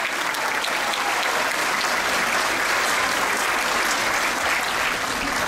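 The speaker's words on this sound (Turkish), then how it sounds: "Zafer Tek Yıldız, alkışlayalım mı?" An audience at a year-end piano recital breaks into sustained applause, a dense, even wash of many hands clapping that fills the room from start to finish without a break.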